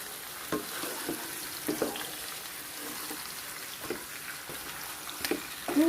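Pork leg stir-fried in a hot pan: a continuous sizzle runs throughout, broken by periodic scraping and tossing strokes from a utensil, close and moderately loud.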